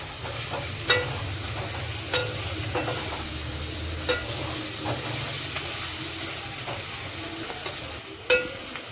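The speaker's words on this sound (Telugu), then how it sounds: "అల్లం వెల్లుల్లి పేస్ట్ ఈ ముక్కలకు అన్నిటికీ బాగా పట్టేంత వరకు మంచిగా కలిపేసుకోవాలండి" Ginger garlic paste is stirred into chopped vegetables in a hot frying pan for paneer veg fried rice: a steady sizzling hiss with periodic sharp scrapes and clinks of the spoon against the pan, close up, no talk.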